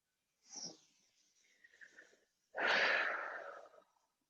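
A person doing a gentle yoga neck stretch takes slow breaths, first a soft inhale, then a faint hum, then a long, loud, airy exhale close to the microphone.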